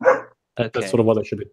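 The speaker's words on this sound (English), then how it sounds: "you got to stop barking" A German Shepherd puppy gives a short bark at the start, followed by someone talking over the rest of it.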